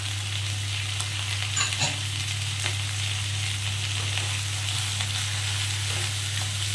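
Chopped onion and capsicum sizzle steadily in a hot pan for a rohu fish curry, a continuous close frying hiss with a low steady hum underneath and a few faint stirring scrapes.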